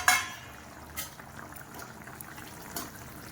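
Chana dal and dried millimaker pieces simmer in a pot of curry, a faint, steady bubbling hiss with a few soft louder pops, no voices.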